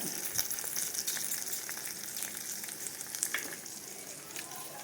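Chana dal, urad dal and cumin fry in a pan of hot oil, giving a soft, steady sizzle and crackle with a few louder pops, close by and without talk.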